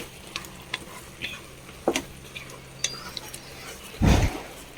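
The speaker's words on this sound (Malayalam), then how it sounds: "ഉപ്പ് എല്ലാ ഭാഗത്തേക്കും ആവുന്ന രീതിയിൽ നന്നായി ഇളക്കി കൊടുക്കാം" Salt stirred through a Vishu katta mixture in a pot, scattered light clinks and scrapes of the spoon ending in a louder, fuller stir, with a faint sizzle beneath and no talking.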